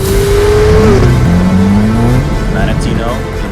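Ferrari Amalfi Spider engine driving with the roof down in Athens, a steady loud drone whose pitch climbs and shifts through gear changes, with wind and road noise underneath.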